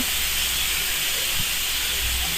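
Pressure cooker cooking mutton releases a steady, loud hiss of steam that holds constant without pause for the whole stretch, close by and alone.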